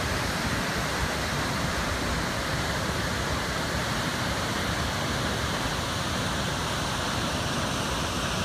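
Distant Yosemite waterfall roaring as a steady broadband rush, even and unbroken for the whole stretch, with no voices or other sounds standing out.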